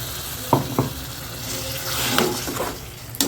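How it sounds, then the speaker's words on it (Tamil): Water splashes into a hot pan of broccoli kurma with a few sharp pours, followed by a steady sizzling hiss and light stirring noises. "அந்த தண்ணியை கொஞ்சம் ஊற்றிக்கலாம்."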